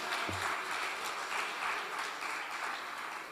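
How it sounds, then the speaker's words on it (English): Audience applause at a public gathering, a soft, steady wash of many hands clapping at a distance, fairly faint and sustained, fading slightly toward the end. "Let's give ourselves a round of applause,"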